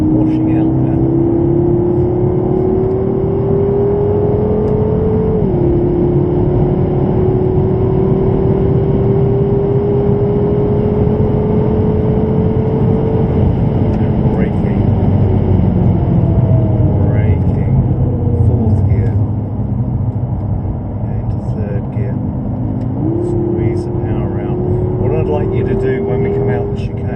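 A BMW M6 drives and drifts around the Goodwood track, its engine droning loudly and continuously with rising and falling pitch as the throttle changes, under steady talk from people inside the car.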